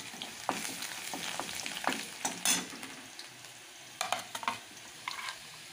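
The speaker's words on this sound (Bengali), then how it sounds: "কড়াইয়ে তেল ছিল ওই তেলের ভেতরে আমি রসুন দিলাম" Garlic fries in oil in a wok, a quiet sizzle broken by scraping stirs and light clinks of a spatula.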